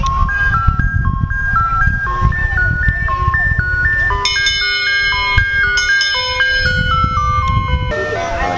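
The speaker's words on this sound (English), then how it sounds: "Now we got the ice cream man pull up." An ice cream truck pulls up at a birthday gathering, its bright electronic jingle playing a repeating stepwise melody loudly and close, while people talk and cheer underneath.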